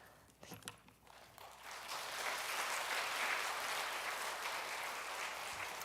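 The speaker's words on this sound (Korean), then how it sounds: "우리 큰 박수로 함께 환영해 주시겠습니다" Church congregation at a pastors' vision school session breaks into applause, starting with a few scattered claps and swelling into sustained, even clapping that fills the room.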